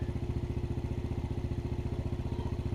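Small motorcycle engine running at a fast, even idle with a rapid pulsing putter while the carburetor idle screw is adjusted, mechanical clatter steady and close.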